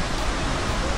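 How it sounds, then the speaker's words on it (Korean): An Icelandic waterfall gives a steady, even wash of broadband rushing noise, heard alone at moderate distance for a second. "폭포 좀 들려요."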